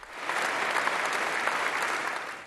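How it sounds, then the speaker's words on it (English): Dignitaries and clergy inside Notre Dame cathedral in Paris applaud the city's firefighters, a dense, steady round of clapping from a large crowd that holds evenly throughout. "led by French President Emmanuel Macron, dignitaries and clergy rose to applaud the hundreds of Paris firefighters"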